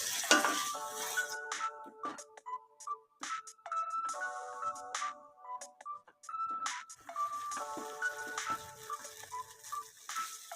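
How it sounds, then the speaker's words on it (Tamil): Ginger garlic paste is sautéed in a pan with a soft sizzle and scattered stirring scrapes, while a ringtone-like chiming melody plays in bursts over the cooking noise. "இஞ்சி பூண்டோட பச்சை வாசனை போகிற அளவுக்கு வதக்கிக்கலாம்."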